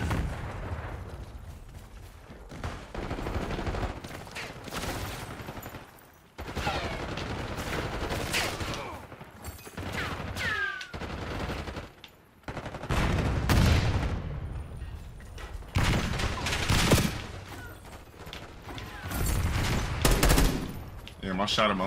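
Dense, rapid gunfire rattles through a first-person shooter match: repeated bursts of automatic weapons and sharp shots, with booming impacts and occasional explosions, loud and nearly continuous with brief pauses, with someone talking now and then.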